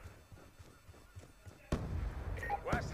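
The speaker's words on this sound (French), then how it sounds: "ils jettent des grenades là" A grenade detonates in a multiplayer shooter video game, a sudden loud blast that leaves a rumbling, noisy aftermath, preceded by quieter game sounds and speech.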